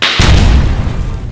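An explosion sound effect in a student film: one loud, close boom that hits suddenly and rolls off into a low, rumbling decay, with no other sound around it.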